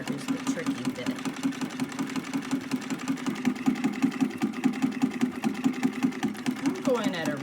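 An antique Singer treadle sewing machine runs at a moderate, steady pace, a close rhythmic chatter of the needle and mechanism with a humming drone, stopping at the end.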